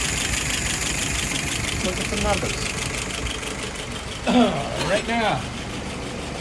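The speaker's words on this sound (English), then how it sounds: "she is idling at about 660" A car engine idles steadily at about 660 rpm, a constant low hum that runs under someone speaking close by throughout.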